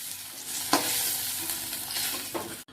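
Paneer stir-frying in oil with salt and turmeric, a loud close sizzle with a couple of sharp scraping stirs, ending abruptly.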